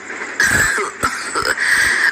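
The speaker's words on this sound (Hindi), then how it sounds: "वो बूढ़ा खांसते हुए कहता है" A few rough, raspy coughs from an old man in quick succession, close and fairly loud, with a throaty wheezing quality between them.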